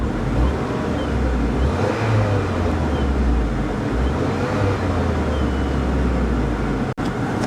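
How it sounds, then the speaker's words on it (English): A C6 Corvette Z06 damaged salvage car at a Copart auction yard, its engine given throttle: a loud, steady rumble with low surging rises and falls, cut off abruptly near the end. "Let's give it a little throttle."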